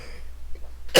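A single sharp cough from a person with COVID bursts out at the very end after a near-silent moment with a low background hum.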